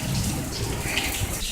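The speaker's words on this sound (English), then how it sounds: "I don't think it's raining in. It's blowing against the window." Wind-driven rain beating against a window during a thunderstorm, a dense, continuous hiss of drops close by.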